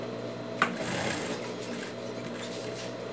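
A sewing machine stitches the hem of a dog shirt, a steady close whirring hum running unbroken with a small click near the start.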